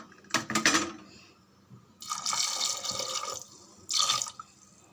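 Water poured over toor dal in a cooking pot, coming in three separate splashing pours with short pauses between them, close and fairly quiet.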